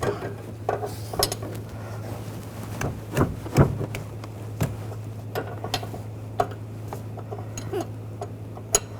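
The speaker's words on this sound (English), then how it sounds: "I'm going to use a 15mm line wrench. Loosen these up." A 15mm line wrench works loose the brake lines on the master cylinder of a 2014-2018 GMC Sierra 1500, giving scattered sharp metallic clinks and ticks of varying loudness over a steady low hum, with no talk.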